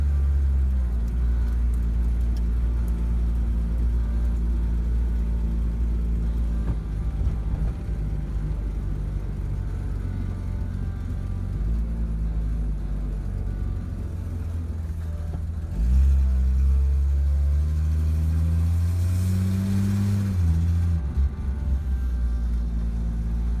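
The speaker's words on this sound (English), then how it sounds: "Accelerates good. Idles. Runs smooth." A 1964 Ford Falcon four-door running on a test drive after being revived from neglect, its engine droning steadily from inside the car with gear-like pitch shifts and a rising rev near the end, no talk.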